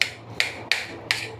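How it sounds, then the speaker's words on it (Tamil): A knife cuts through hot boiled potatoes for potato kurma, making four evenly spaced sharp taps against the board, close and clear, with no talking. "இப்போ சூடாக இருக்குது, நல்லா கத்தியில் கட் பண்ணி விட்டுக்கலாம். சின்ன சின்னதாக கட் பண்ணிக்கலாம்."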